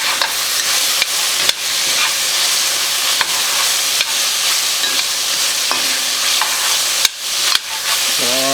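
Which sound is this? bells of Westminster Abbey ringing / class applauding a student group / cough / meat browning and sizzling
meat browning and sizzling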